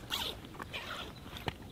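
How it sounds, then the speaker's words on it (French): The zipper on a Prologic Inspire carp landing mat is pulled open outdoors, giving a few short, close rasping bursts with no speech. "ma fermeture éclair."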